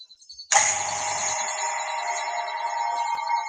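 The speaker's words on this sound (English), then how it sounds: "the noise you can hear is now the pump sucking all the air out of the jar" A vacuum pump kicks on abruptly after a brief quiet moment and runs with a steady, whirring hum as it sucks the air out of a jar, continuing unchanged to the end.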